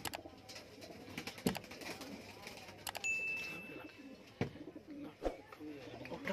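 Golden pigeons kept for sale cooing close by in repeated low calls, mixed with other bird chirps and occasional sharp clicks or dings, with a voice talking over them.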